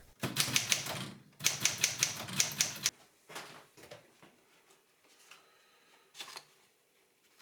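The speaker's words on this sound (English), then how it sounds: "I write on expensive paper with a typewriter." A typewriter is struck in two fast, dense bursts of keystrokes, close and crisp, followed by a few sparser clacks and mechanical knocks in a small filmmaking studio.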